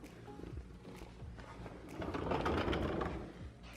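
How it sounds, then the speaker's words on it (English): Bolts being worked loose from a carbon fiber front splitter on a Ford Shelby GT350R, giving quiet, steady ratcheting and whirring mechanical sounds that swell louder in the second half. "I need to remove these 3 bolts"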